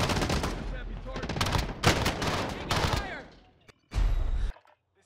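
Automatic gunfire from Call of Duty Warzone Season 5, using a CR56 AMAX and OTS 9 loadout, roars in loud, dense bursts. It breaks off briefly, then one last sharp burst follows, with a voice faintly underneath.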